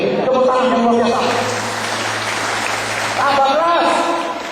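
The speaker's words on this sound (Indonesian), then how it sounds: "Tepuk tangan yang luar biasa." An audience claps steadily at a motivational talk while a loudspeaker voice carries over the applause.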